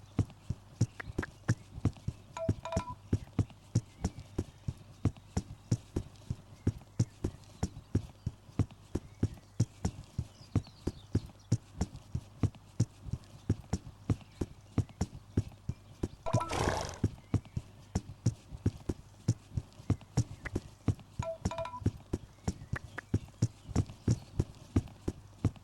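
A horse during foal training walks at a steady pace, its hoof clip-clops ticking regularly throughout, and it whinnies a few times, with one long, loud neigh in the middle.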